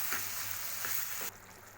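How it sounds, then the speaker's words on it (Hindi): Mango launji with sugar being stirred in a pan gives a steady close sizzling hiss broken by a few soft scraping strokes of the spoon, with no voices. "अब हम इसमें चीनी डाल देंगे और वापस से अच्छी तरीके से इसको हम चलाएंगे"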